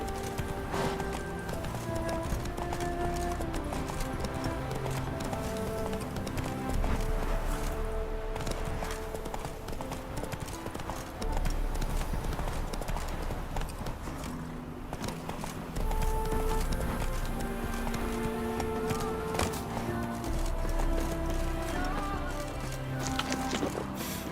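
Horse hooves gallop in a fast, steady clip-clop rhythm throughout the Witcher 3 video game, set against a continuous musical score.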